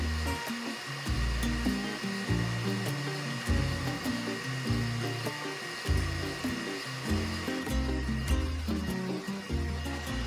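An xTool D1 Pro 20W diode laser cutting a sheath profile from 8 to 9 ounce leather gives a steady fan whir with a low rhythmic motor hum pulsing as the head moves, continuous and close.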